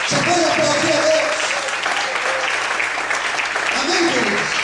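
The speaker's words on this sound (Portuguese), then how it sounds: "Você pode aplaudir a Deus?" Worshippers in a church clap together through an evening sermon break, continuous broad applause at steady loudness, with speech-like voices mixed underneath.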